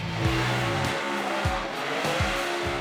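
A car doing a burnout at a car show screams at high revs, around 8,500 rpm, dropping and surging in repeated bursts, with a harsh tire squeal running underneath, loud and close.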